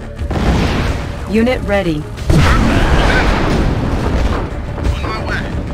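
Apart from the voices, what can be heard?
EMP airstrike explosions in Red Alert 20XX video game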